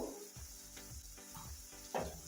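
Ground masala paste sizzles as it is sautéed in a pan for kadhi vada, with soft scraping stirs recurring every half second or so and a brighter sizzle burst near the end.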